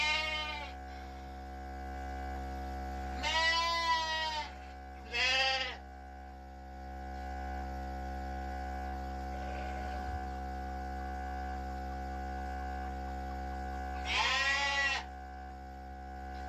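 Katahdin ewes bleating in a barn during milking, three loud bleats spaced apart over a steady mechanical hum, probably from milking equipment.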